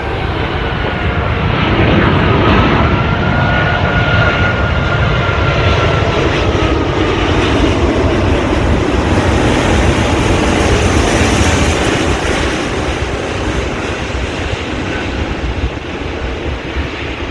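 A heavy jet airliner lands at Sydney Airport, its engines a loud, broad, steady roar that holds throughout with a faint whining tone drifting across it, no voices present.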